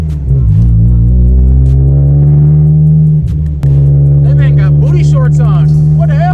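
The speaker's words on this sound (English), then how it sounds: "It sounds like a Subi. It has like the grumble to it." A Honda DC2 with unequal length headers idles close up with a deep, lumpy exhaust grumble, dips briefly and then carries on steadily, while someone talks over it.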